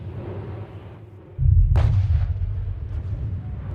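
Gunfire in an audio drama, a heavy booming blast with a sharp crack on top, followed by a sustained rumbling roar of battle, loud and close without spoken words.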